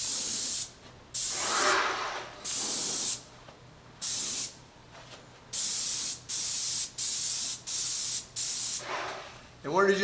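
A paint sprayer lays down Benjamin Moore Black Satin Advance paint in a steady run of loud, close hissing bursts, each lasting about a second with short gaps between, and a voice speaks during the pauses.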